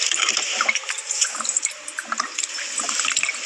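Fuel pours steadily into a car in the horror video game No Rest, a continuous splashing, gurgling liquid stream lasting a few seconds, heard alone without talk.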